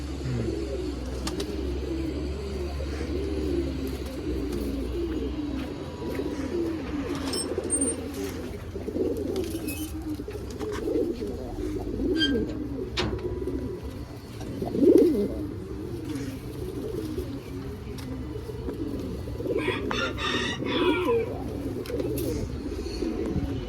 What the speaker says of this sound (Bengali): এই যে এটা আমাদের কিনা কবুতর